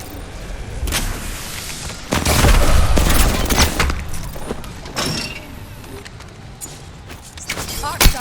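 Rapid bursts of gunfire and explosive booms from a shooter video game, Apex Legends, loud and continuous with fluctuating intensity, with a voice talking over the action.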